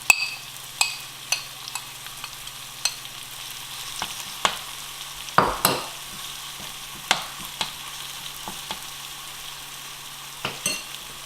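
Stuffed baingan (eggplant) cooking in masala in a pan, with a steady low sizzle broken by sharp scraping and tapping knocks of a spoon as they are turned, close and moderately loud, no voices.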